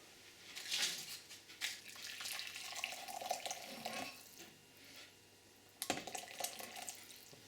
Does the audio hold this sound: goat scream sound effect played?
no